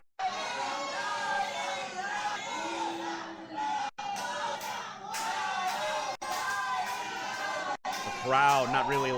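Crowd at a live wrestling event roaring and shouting continuously, a dense wall of voices that swamps a ring interview, with talk barely emerging beneath the din.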